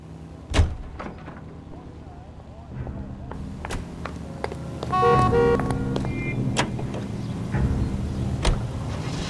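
Car in the video game L.A. Noire: a door thump, then a steady engine drone building as the car pulls away, with clicks and a brief tonal chime over it, a voice speaking intermittently.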